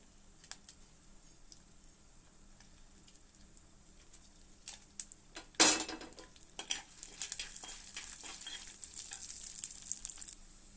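Garlic cloves and dried red chillies frying in a pan, a soft sizzle with light clinks of a utensil, then a sudden loud burst of spattering hiss that stays busy and crackling to the end, close by with no speech.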